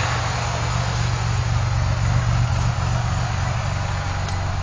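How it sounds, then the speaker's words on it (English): A supercharged Ford Thunderbird engine idles during break-in, a steady, loud, even low rumble with no speech over it and no change in pitch throughout. "Let's see what we're idling at."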